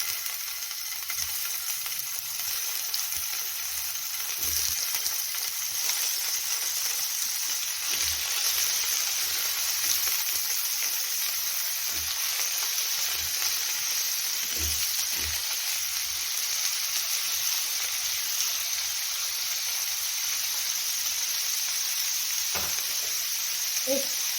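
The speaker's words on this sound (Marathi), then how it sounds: "बारीक गॅसवरती पनीर आपण फ्राय करून घेऊया" Paneer fries in ghee over a low gas flame, giving a soft, steady sizzle and hiss throughout, with occasional faint taps and clinks. No one speaks.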